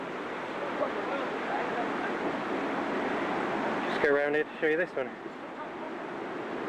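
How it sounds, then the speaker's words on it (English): Strong wind roars steadily across the gallery of Bishop Rock Lighthouse in the mid 1990s, a dense broadband rush that continues throughout while someone speaks briefly near the middle. "although quite windy today."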